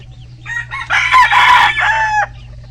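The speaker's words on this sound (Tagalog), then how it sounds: "Dami palang manok." A rooster crows loudly and close by in a backyard flock in Bicol, Philippines, a drawn-out call with a few clucks just before it, over a low steady hum.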